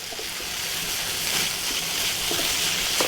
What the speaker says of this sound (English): let's give it a good stir